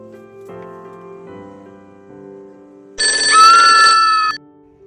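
A telephone rings in a resin-crafting workspace, an electronic ringtone of bright repeated tones bursting in loud and close for about a second and a half, with quieter sustained tones before it.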